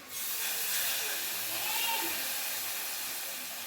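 Steady, close sizzling hiss as tomato rasam is poured into a hot turmeric tempering in a home kitchen pan; it holds fairly even for a few seconds and eases slightly toward the end.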